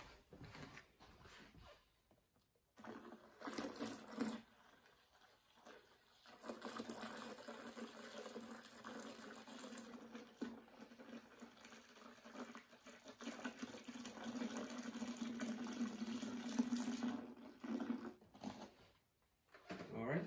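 Tap water poured into a homebrew kettle to bring a stout extract batch up to 2.5 gallons, a steady rushing fill with a rising tone, close and fairly quiet, broken by short pauses.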